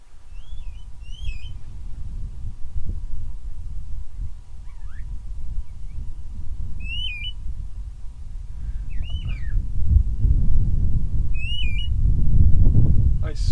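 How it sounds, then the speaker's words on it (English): Wild birds in the desert give strange whistled calls, short looping notes repeated every few seconds at middle distance, over a steady rumble of wind and low noise. "I swear I'm seeing the weirdest of birds here."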